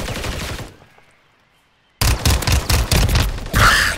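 A 2-shot Fennec submachine gun fires in a video game: a loud rapid burst, then about a second of near silence, then another sustained stream of quick, close shots ending in a heavier blast.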